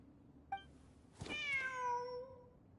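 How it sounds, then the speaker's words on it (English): Cat meowing in the video game Genshin Impact, a short chirp followed by one long, clear, drawn-out meow, close and prominent over quiet background. "The cat!"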